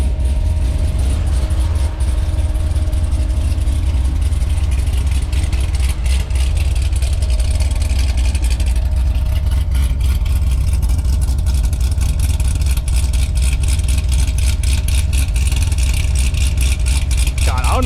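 A Chevrolet Corvette C6 Z06 with a heads-cam-intake build idles loud and close, its lopey, rough rumble pulsing unevenly throughout.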